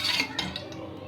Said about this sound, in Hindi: 5 चमचे हम डालेंगे घी के।